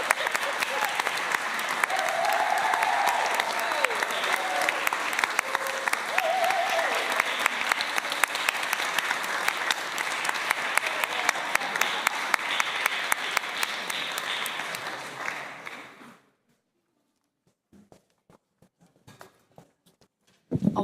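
A concert audience gives the musicians a long, loud round of applause after a sackbut performance. Dense clapping with some voices mixed in fades out at about 16 seconds, and a few scattered claps and noises follow.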